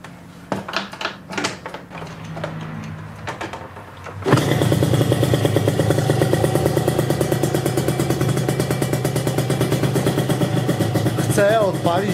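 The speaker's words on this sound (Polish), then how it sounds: "Chcę odpalić Dragster," An Italjet Dragster 180 scooter engine has some clatter and fumbling first, then catches and runs at a loud, steady, rough idle close by, continuing to the end; voices are heard during the early part.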